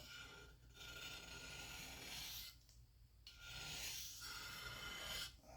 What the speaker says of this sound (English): I'm scraping off most of the surface rust with just a razor blade right now.